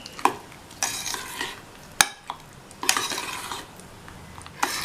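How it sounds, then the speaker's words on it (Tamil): Curd and grated carrot being stirred together in a bowl for raita, a spoon scraping and clinking in several bursts, with sharp taps against the bowl's edge between wet mixing strokes. "இப்போது இந்த தயிரையும் இந்த கேரட்டையும் நல்லா ஒன்றா மிக்ஸ் பண்ணி விட்டுடலாம்."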